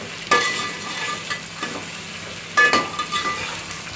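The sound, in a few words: tomatoes being stir-fried in a pan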